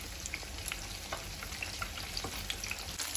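Chicken nuggets fry in medium-hot oil in a kadai over slow to medium heat, giving a steady, close crackling sizzle with scattered pops throughout and no talking.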